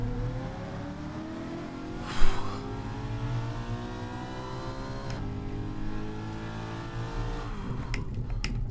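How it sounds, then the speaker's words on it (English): A race car engine in a sim-racing video game drones and whines with steadily shifting pitch as the car drives away, accompanied by a brief thump partway through and a continuous mechanical hum. "Is that our competition up there driving away?"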